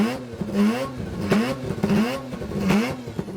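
A Mazda 13B rotary engine car revving repeatedly in short, rising bursts with a buzzy, raspy rotary tone, close and fairly loud, with no talk.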